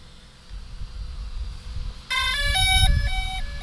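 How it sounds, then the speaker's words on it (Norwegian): A short electronic startup chime from a DJI Spark drone, with stepped rising and falling tones over a steady low rumble, clear and close, lasting about a second and a half. "Typiske DJI-lyden."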